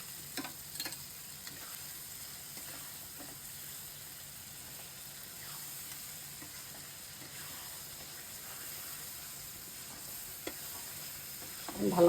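Raw mango and garlic pickle with sugar is stirred in a pan. A faint, soft sizzle carries light, scattered scraping taps throughout, with no voices.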